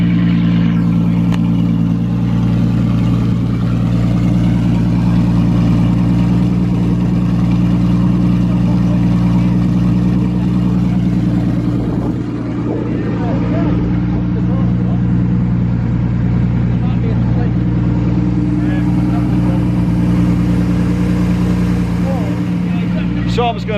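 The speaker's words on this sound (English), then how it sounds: "So the boat run perfect for around about a few minutes" A boat engine idles steadily after the choke is switched off, a loud, even hum that holds throughout as it warms up, with a voice talking faintly over it.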